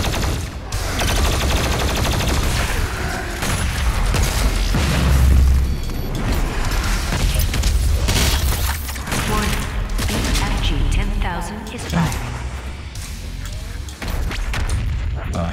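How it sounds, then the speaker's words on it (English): Exploding barrels go off amid heavy combat in DOOM Eternal, with deep booms and rapid gunfire crowding together in loud, dense bursts while someone talks over the action. "Go ahead and kill these exploding barrels for some ammo here."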